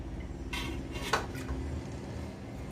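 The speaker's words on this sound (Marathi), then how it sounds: "आता मी हा तांदळाचा डबा कुकरमध्ये ठेवते" A metal rice container is set down into a pressure cooker, giving a couple of faint metallic clinks and a soft knock over a quiet kitchen hum, with no talking.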